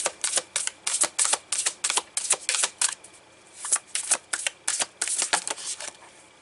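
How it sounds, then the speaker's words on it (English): Tarot cards shuffled by hand before one is picked for a reading, giving a series of quick, close riffling bursts in an irregular rhythm with short pauses between, and no talking. "let's pick a card from Mystical Shaman"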